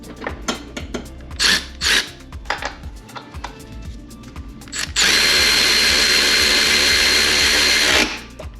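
Close-up work on a 2022 or later Toyota Tundra headlight: handling clicks and knocks, then a power tool runs in a steady, loud whir for about three seconds while reinstalling bolts, then stops.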